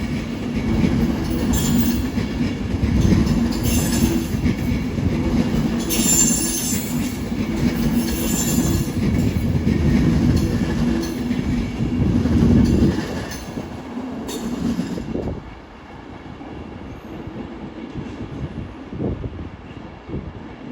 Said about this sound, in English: the 12:33 Avanti West Coast service to Manchester